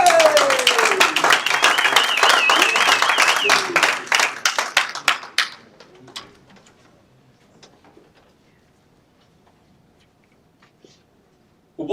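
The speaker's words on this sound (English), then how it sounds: "please make a big round of applause for our last contestant of today, Mr. Jake McIntyre from Ray White." Audience at a live real estate auction clapping for the final contestant, brisk applause under a voice that thins into scattered claps and dies away to near silence halfway through.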